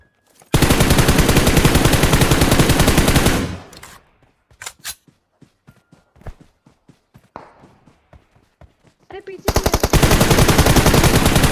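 Gunfire from a PUBG-style battle game at Rozhok: long loud bursts of rapid automatic fire open and close the passage, with scattered single shots and footsteps in between.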